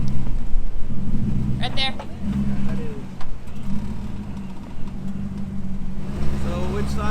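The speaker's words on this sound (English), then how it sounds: "All right, rev it up, because it is super bound. God, this pump is... Yeah, no, we need a new steering pump." A Jeep engine revs and idles with a failing power steering pump, a steady mid-pitched drone with a whining pump, while people talk over it.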